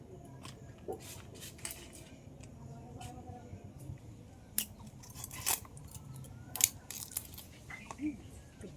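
Knife scraping and cutting small tangra catfish, some with eggs in the belly, in a home kitchen; sharp intermittent clicks and scrapes sound close against a steady low background hum, with no talk.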